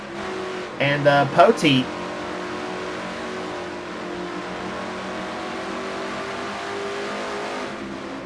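Stock cars drone steadily around Bristol in a sim racing video game, a smooth, sustained engine tone heard after a brief burst of commentary early on.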